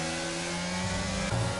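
Formula 1 racing cars in a video game at Belgium, a loud engine whine that climbs in pitch as the cars accelerate, steady and close.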